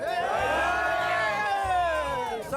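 Flamengo supporters roar and whoop together in a loud, close crowd cheer, with rising shouted voices sustained across the short burst.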